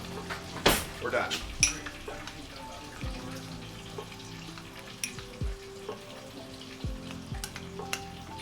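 Hot oil frying mozzarella sticks and cheese in a home kitchen, a soft background sizzle punctuated by clanks of pots and utensils, with running water and a few sharp knocks.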